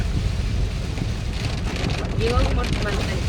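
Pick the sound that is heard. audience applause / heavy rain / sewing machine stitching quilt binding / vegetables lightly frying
heavy rain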